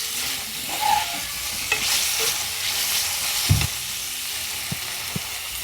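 Flower blossoms, stems removed, sauté in a hot pan with a steady close sizzle, broken by a few sharp scraping knocks of the stirring spoon.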